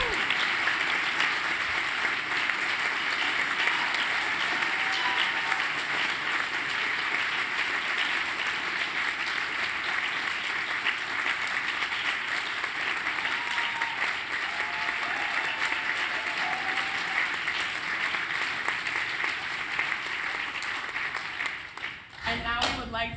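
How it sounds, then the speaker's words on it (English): A long, steady round of applause from the crowd at the close of a symposium, dense and sustained for over twenty seconds with faint voices beneath, ending in a short burst of handling noise. "Can we have one more round of applause for"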